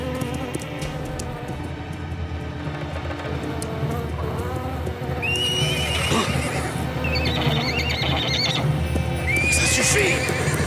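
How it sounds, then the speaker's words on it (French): Frightened horses at night whinny and neigh in sharp, rising bursts over a steady bed of stamping hooves and rustling, with several animals calling close by throughout. "Tu transmets ta peur aux autres chevaux."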